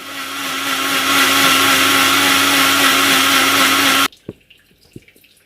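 A blender whirs loudly and steadily, mixing fruit with sugar for an icy slush, then cuts off abruptly, leaving a few faint knocks and taps in near silence.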